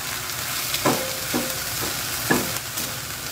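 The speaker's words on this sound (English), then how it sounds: "And we're stirring it." Vegetables seasoned with turmeric and curry powder are stirred in an oil-free pan, with a steady soft sizzle under several distinct spoon scrapes and knocks spaced about a second apart, close and clear with no talking.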